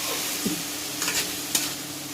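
Spices frying in oil with onion, chili, ginger and tomato, a steady close sizzle with a couple of quick spatula scrapes, brief and without talk.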